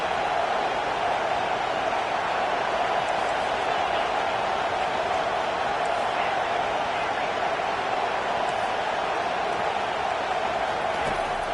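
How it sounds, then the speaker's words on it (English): Stadium crowd at a Texas vs Arkansas college football game, a steady dense roar of many voices that fills the whole clip at even loudness with no clear breaks. "This crowd bringing the energy and noise early."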